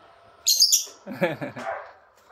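A pet bird gives a quick burst of bright, high chirps up close, followed by a lower, warbling vocal sound and a softer call before it fades.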